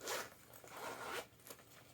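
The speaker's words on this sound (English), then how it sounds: "Let's zip this now." A zipper on a sewn fabric sling is pulled closed in a few quick, rasping strokes, close and fairly soft, with brief pauses between pulls and no speech.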